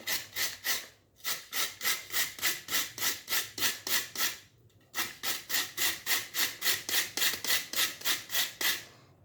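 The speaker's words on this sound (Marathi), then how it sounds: "आता सुरुवातीला हे जे गाजरं आहेत हे किसून घ्यायचे आहेत बारक्या किसणीने किसले तरीही चालतील" Carrots grated by hand on a grater: close, steady rhythmic rasping strokes in two long runs separated by a brief pause.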